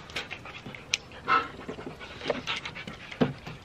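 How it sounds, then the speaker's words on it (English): An 80-pound puppy panting rapidly and close, with quick rhythmic breaths and a few soft whimpery sounds, no talking. "80-pound dog, still a puppy."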